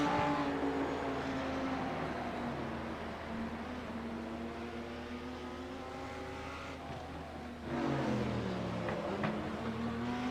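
GT3 BMW race car climbing a hill at Sonoma, its engine note winding up through rising gears with a steady high-revving drone, then a shift and a fresh surge from another car near the end.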